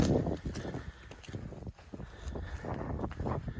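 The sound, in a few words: wind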